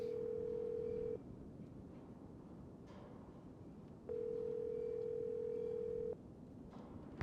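Steady telephone dial tone on a phone in the Nancy Drew game Treasure in the Royal Tower, heard in two separate sustained stretches with a quiet gap between them over a low background hum.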